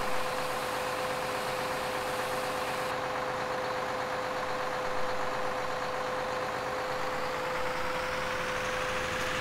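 A tractor with a front-end chopper runs steadily while chopping corn in the Farming Simulator 2013 video game, producing a continuous droning engine hum with a constant whine, no variation in loudness and no voices.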